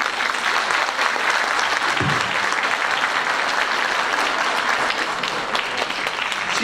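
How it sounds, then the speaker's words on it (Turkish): An audience at a choir concert applauds during a deputy mayor's speech, a dense, sustained clapping from a large crowd that holds steady throughout. "ben bir alkış istiyorum"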